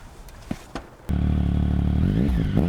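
A motorcycle with a double exhaust starts up after a few clicks and knocks, then idles with a loud, close, steady rumble, the engine note rising briefly toward the end.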